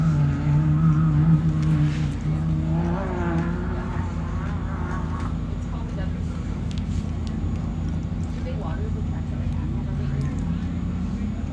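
A Pro R UTV race vehicle roars past the start-finish line at a desert off-road race in Powell, Wyoming, its engine droning steadily under continuous commentary voices.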